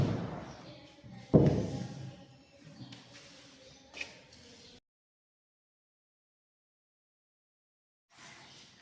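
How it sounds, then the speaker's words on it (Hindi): A wooden flush door being swung shut on its newly installed frame, giving a sharp thud near the start followed by smaller knocks and shuffling handling sounds, then a stretch of silence before faint noise returns. "और अब हम यहाँ पर इस गेट को बंद करेंगे।"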